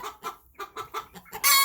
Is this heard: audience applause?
no